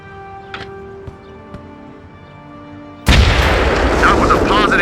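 A grenade blast in the Xbox tactical shooter Full Spectrum Warrior: after quiet game ambience with faint ticks, a sudden loud broadband boom erupts and sustains as a rumbling roar with crackling debris until the end.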